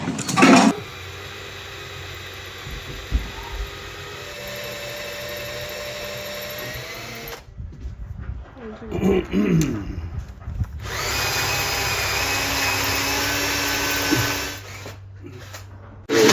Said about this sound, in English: drilling aluminium out of stainless steel is exceptionally hard because aluminium is softer than stainless steel